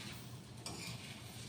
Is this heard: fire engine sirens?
no